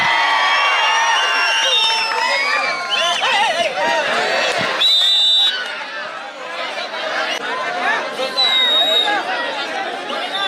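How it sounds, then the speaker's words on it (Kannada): A kabaddi final crowd between Karnataka and Maharashtra roars with cheering, whoops and lively chatter, a dense continuous wall of noise from the stands that surges and dips without pause. "ಒಂದ್ಸಲ ಜೋರ ಚಪ್ಪಾಳೆ."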